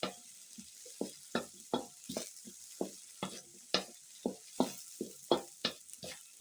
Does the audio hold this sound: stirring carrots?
yes